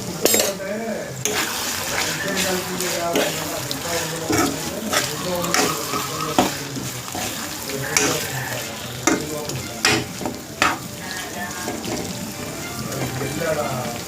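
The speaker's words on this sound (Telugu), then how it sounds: "ఉల్లిపాయలు అవి నూనెలో మంచిగా ఫ్రై అవ్వాలి, మంచిగా వేగిపోవాలన్నమాట." Onions frying in oil with turmeric in a pan for prawn fry, a loud continuous sizzle with repeated clanks and scrapes of a ladle against the pan as they are stirred, and a voice talking over it.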